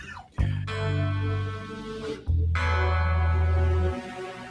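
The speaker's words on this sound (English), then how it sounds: "I have synthesizer electronics retrofitted into my stick, so I can get a sound like this" Synth-like, bell-toned notes come from a Chapman stick with retrofitted synthesizer electronics. Two long sustained tones over a deep bass drone are separated by a short break, each starting with a bright attack.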